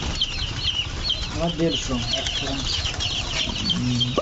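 Chicks on a poultry farm cheep constantly in high, overlapping peeps, with a few lower clucks and a brief voice in the background.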